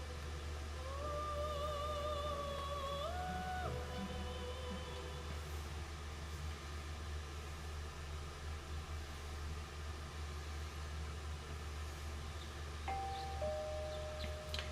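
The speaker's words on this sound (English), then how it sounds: "You hear the doorbell ringing." A two-tone electronic chime rings out in Persona 4, sounding twice near the start and once more near the end over a low, steady background hum, faint and with no voices.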